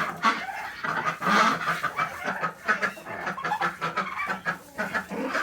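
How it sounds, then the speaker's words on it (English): Several ducks quack and cluck in quick, overlapping bursts close by, a busy chorus of poultry calls. "See, all 5 ducks are here."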